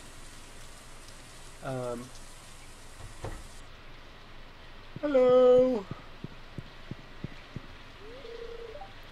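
Steady rain in the farming video game Stardew Valley, a soft continuous hiss running throughout with small scattered pattering drops and a short game chime near the end, while a voice briefly greets at the start.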